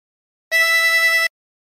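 A single blow note on hole 7 of a 16-hole tremolo harmonica, held steady for under a second with a bright, reedy tone and a faint wavering shimmer, alone and close.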